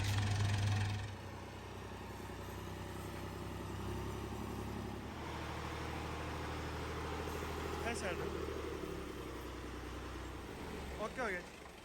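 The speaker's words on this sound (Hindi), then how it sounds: "बाबा जान ट्रैक्टर अंदर ला रहे हैं।" A tractor engine runs at low idle as it is driven inside at a village home, a faint steady mechanical drone beneath people talking nearby.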